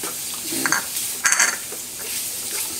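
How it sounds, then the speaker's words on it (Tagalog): Sisig with liver spread being stirred in a pan: a spoon or spatula scrapes and clinks against the metal in a few short bursts over a low, steady sizzle, with no talking. "Balikan natin habang hinahalo ko hanggang sa mamix yung ating liver spread"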